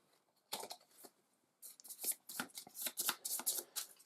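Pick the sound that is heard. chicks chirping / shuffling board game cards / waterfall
shuffling board game cards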